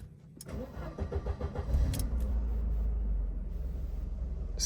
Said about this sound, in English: So if I switch off the car now and I restart it,